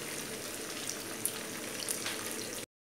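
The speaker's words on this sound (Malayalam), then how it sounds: "ഇനി ഈ എണ്ണയിലോട്ട് അരിഞ്ഞ് വെച്ചിരിക്കണം രണ്ട് മീഡിയം സൈസ് സവാള." Two medium-sized sliced onions frying in hot oil on a gas stove. A steady close-up sizzle and crackle runs throughout before cutting off abruptly near the end.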